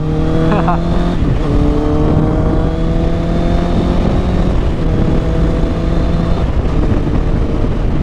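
A Honda CBR650R motorcycle engine runs loud and close, holding a steady, rich drone with slight shifts in pitch throughout, with no clear break in the sound.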